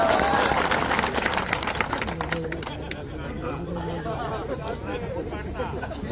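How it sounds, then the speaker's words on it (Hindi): A crowd claps at a large outdoor public rally in a village, dense and loud applause that thins after the first couple of seconds into scattered claps and murmuring chatter. "ताली बजाओ यार इनके लिए।"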